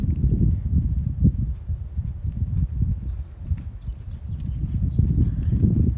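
Horse loping circles around barrels in an arena, its hoofbeats thudding in a continuous low rolling rhythm, fairly close and steady throughout without any talk.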